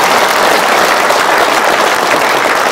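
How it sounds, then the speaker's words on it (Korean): A lecture audience at a patriotic event gives a round of applause, a steady, dense clapping that stays loud and even from start to finish with no voices over it. "박수 한번 보내주세요"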